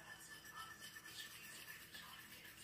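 Whisking gelatin in a pot over low to medium heat for lemon berry apple cider vinegar jellies; a faint, steady, brushy scraping with quick repeated strokes and no voice.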